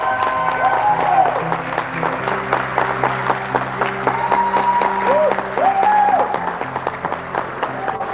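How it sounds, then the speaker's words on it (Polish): An arena audience applauds after Poland's rehearsal performance at Eurovision 2022, a steady wash of clapping over several seconds mixed with lingering music and a voice. "Są brawa!"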